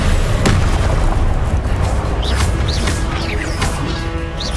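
Confringo explosion spells blast in the Hogwarts Legacy video game, a loud, continuous din of booms and crashes with several sharp impacts and whooshing magical effects layered throughout, no talk heard.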